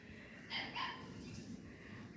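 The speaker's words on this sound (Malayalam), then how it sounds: "താഴെ പട്ടിക്കുട്ടികളുണ്ട്" Two quick, high-pitched puppy yips, faint and somewhat distant, followed by quiet background noise.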